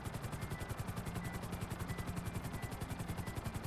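A helicopter in the video game GTA 5 makes a steady, fast rotor chop that thumps evenly throughout, faint and alone.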